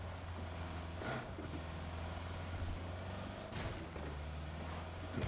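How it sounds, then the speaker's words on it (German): Distant gunfire from behind a hill in a video game, heard as a couple of muffled booming reports over a constant low engine-like drone, faint and far off with no talking. "Ja, Schüsse von links hinterm Berg."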